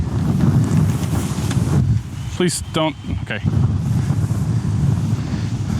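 Strong, steady wind roars and buffets the microphone on an open disc golf course in Abilene, a dense low rush filling the whole stretch while a person briefly speaks midway.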